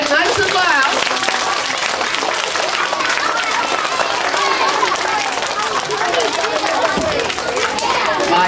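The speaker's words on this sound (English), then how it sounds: "I can tell by the applause." Audience applause at a kids' camp magic show, loud continuous clapping mixed with excited children's shouts and chatter throughout.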